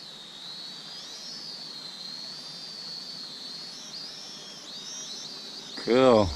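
A TK116 Vitality drone flies outdoors in wind, giving off a thin, steady high whine that rises and falls in pitch as it moves. A short burst of voice comes at the very end.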